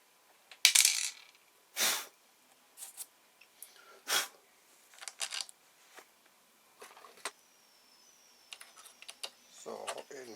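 Small metal balls drop one at a time into a taped-up humidity removal unit, giving scattered sharp clicks and rattles at irregular intervals, close and fairly quiet, with gaps of near silence between them.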